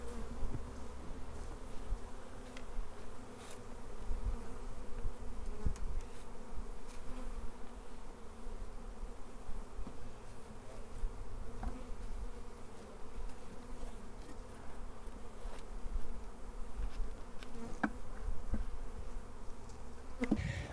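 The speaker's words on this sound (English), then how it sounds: "Gosh, it's so nice having bees back on the homestead." Honey bees from newly arrived nucleus colonies buzz steadily around a garden Flow Hive on a homestead, a continuous close drone with no talking.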